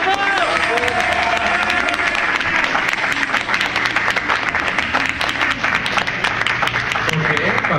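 A comedy-show audience at a Halloween event bursts into loud, sustained applause mixed with cheering and shouts, a dense wash of clapping that fills the whole stretch without letting up.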